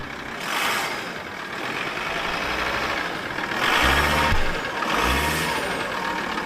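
A used van being looked over for conversion into a service truck, its engine idling with a low rumble and then briefly given gas twice, each rev swelling into a deeper, louder surge before settling back.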